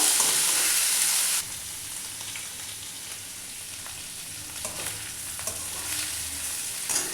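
Okra curry sizzles as it is reheated in a pan, a steady hiss and crackle that is loud for the first second and a half, then settles into a softer, continuous frying sizzle with faint stirring clinks and no talk.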